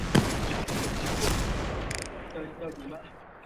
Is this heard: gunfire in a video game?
yes